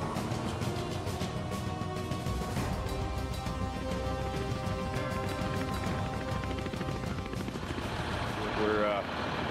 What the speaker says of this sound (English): The helicopter takes flight to meet the recovery team.